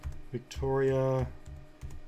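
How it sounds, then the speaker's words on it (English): Light clicks of typing on a computer keyboard sit close by under a man's spoken word, brief taps before and after his voice. "Again, typing values that I want."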